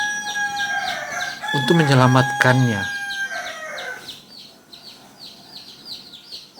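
A dying chick cheeps repeatedly in short, high peeps while a rooster crows loudly once nearby, with a voice speaking quietly underneath.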